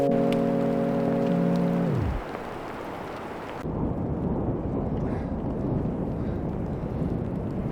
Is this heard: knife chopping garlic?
no